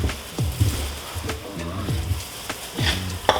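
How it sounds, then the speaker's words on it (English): Vegetables stir-fry in a hot heavy-bottomed metal skillet, a moderate sizzle broken by repeated spatula scrapes and clanks, with indistinct voices murmuring in the background. "You heat it up. And then when it heat up, and then you can start stir frying."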